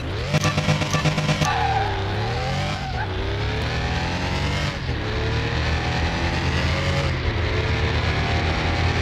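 A turbocharged six-cylinder car racing in Car Mechanic Simulator 21 accelerates hard, its loud engine note climbing and dropping through repeated gear shifts with a rising turbo whine, close and sustained with no talk.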